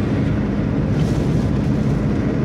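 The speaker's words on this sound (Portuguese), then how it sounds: "Muito vento aí, ó." Strong wind buffeting in the countryside near Colônia do Gurguéia, a constant heavy low roar and rumble filling the whole moment with no talk.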